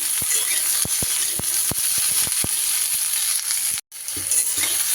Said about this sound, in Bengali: সবজি কিন্তু এইভাবে আমি নাড়িয়ে চাড়িয়ে একটু ভেজে নিয়েছি